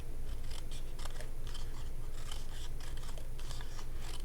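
Scissors snip steadily around the edge of a paper card, a rapid run of close, crisp cuts with no talking.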